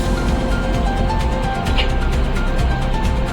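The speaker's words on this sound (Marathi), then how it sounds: "मुंबईला येणारी गाडी क्रॉस झाली आहे." A Mumbai-bound train passes on the crossing track at a single-line station, heard from inside a halted train as a loud, steady rumbling roar with rhythmic clatter throughout, without voices.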